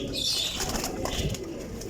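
Teddy pigeons flutter and flap their wings while being shown, soft rustling bursts close by over a busy background with no clear speech.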